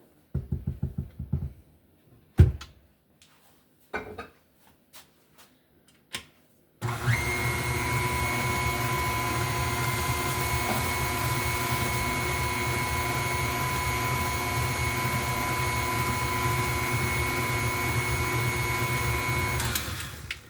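Electric mixer beating coconut cake batter: after a few seconds of scattered knocks and clatter, the motor kicks in with a loud, steady whine that runs unbroken to the end.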